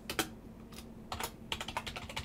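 Bursts of quick, crisp key clicks on a computer keyboard, close and fairly quiet, arriving in short irregular clusters with brief pauses between, no voices.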